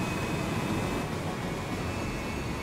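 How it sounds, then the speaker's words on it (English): Close air support aircraft approach at night in the Gunner HEAT PC tank game, heard as a steady, broad roar of engine noise with no distinct pulses and no voices. "And I do hear our CAS coming in."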